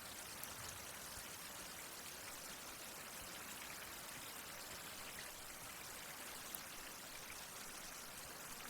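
Steady rain falling in an outdoor survival setting, a constant soft broadband hiss with no breaks and no talk, at moderate, even loudness throughout.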